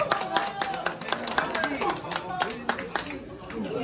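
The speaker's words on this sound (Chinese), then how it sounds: "我哋掌声鼓励。" Audience clapping at a Cantonese live music show, rhythmic claps from a crowd with some spoken voice mixed in, steady and fairly close throughout.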